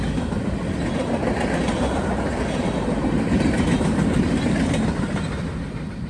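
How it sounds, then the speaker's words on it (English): A westbound holiday train rolls through Elkhart, a steady loud rumble of wheels and railcars with faint clickety-clack holding close for the whole stretch, no voices. "the end of the BNSF manifest cleared mere minutes before the train finally arrived"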